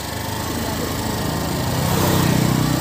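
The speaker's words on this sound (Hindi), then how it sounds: "देखिए गाइस गाड़ी स्टार्ट हो गई है और ये बाइक चल रही है हमारी" A motorbike engine running steadily after starting, a continuous close buzzing drone that grows slightly louder toward the end.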